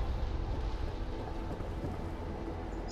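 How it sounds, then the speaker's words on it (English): Steady rain falls during a storm in the video game Fallout 4, a dense, even hiss with deep rumbling underneath, continuous and fairly loud for the whole stretch. "Yep, it's some rain."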